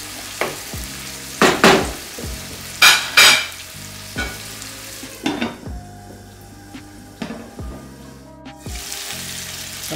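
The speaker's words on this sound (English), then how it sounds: "The Karahi aloo is cooking for the last 20 minutes" Potatoes for aloo karahi sizzle steadily in a pan, broken by a few louder bursts of stirring and clattering utensil scrapes, with no one talking.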